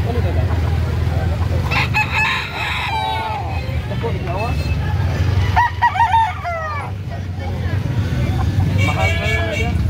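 Roosters crow repeatedly at a busy chicken market, several loud calls over a steady hum of traffic and crowd babble, while people talk and bargain nearby.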